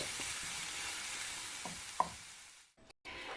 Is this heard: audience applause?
no